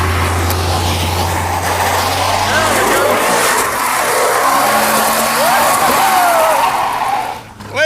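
The engine of the Draguar drag car revs loudly and continuously while it is power braked, with screeching tire squeal toward the end and voices shouting over the roar.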